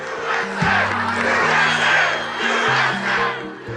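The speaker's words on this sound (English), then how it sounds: "The screams turned to cheers." Large rally crowd screaming and cheering after shots are fired at Trump, a loud, dense roar of many voices swelling and shifting throughout.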